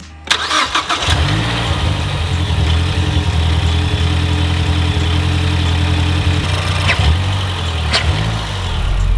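A MazdaSpeed 3 with a newly installed intake cranks over and catches, then settles into a steady, loud idle close by, with a brief rev blip near the end; nobody speaks.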